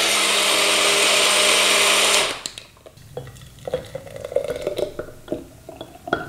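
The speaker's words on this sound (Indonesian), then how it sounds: "Blender murahan." A cheap blender whirring loudly as it mixes an Oreo milkshake, a steady motor drone for about two seconds that cuts off abruptly, followed by faint clinks and handling sounds.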